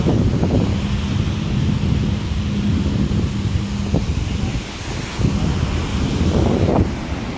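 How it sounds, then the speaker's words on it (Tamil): Sea wind buffets the microphone at the shore while waves wash in with a broad, loud roar and rumble, swelling and easing in slow surges. "இந்த கடல் காற்றினுடைய காண இசை கண்டுகளியுங்கள், கேட்டு மகிழுங்கள்."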